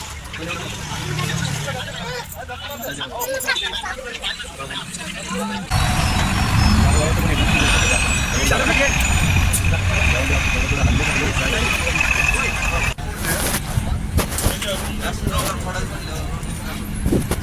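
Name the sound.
vehicles and buses stuck in traffic jam on ghat road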